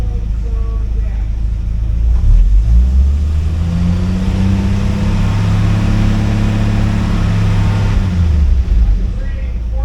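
A car engine rumbles close by at idle, then climbs into a sustained rev held for several seconds before easing back down toward idle.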